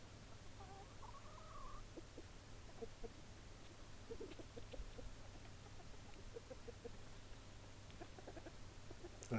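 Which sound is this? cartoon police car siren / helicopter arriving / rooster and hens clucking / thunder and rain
rooster and hens clucking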